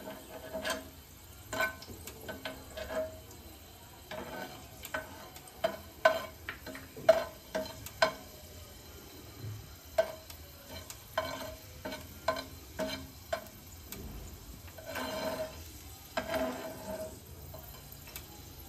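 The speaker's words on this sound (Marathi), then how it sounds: "लसूण 1 मिनिटभर अजून परतायचा" Garlic sautéing in a pan for an ambadi leaf chutney: a soft, continuous sizzle under repeated clicking scrapes of a spatula stirring against the pan, quiet and close.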